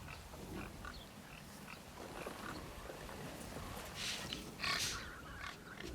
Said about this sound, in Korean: 망루에 올라간 지 얼마 되지 않아 멧돼지 한 무리가 모습을 드러냈다.